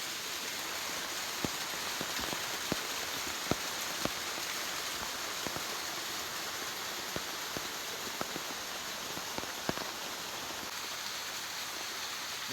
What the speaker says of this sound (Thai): เดี๋ยวฝนตกมันตกหนัก